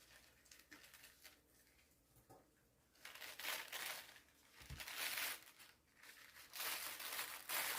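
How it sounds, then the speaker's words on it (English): Tape pulling apart the layers of a thin paper napkin: faint crinkling and light rustling that swells into soft, papery crackles in close, quiet surroundings. "So we'll use our tape here to help us separate the layers."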